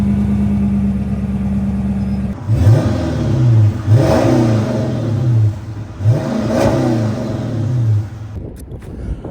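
A Dodge Challenger R/T engine cranks over and catches outdoors in Texas, then rises and falls through a few loud revs before settling back, close by and with no voices.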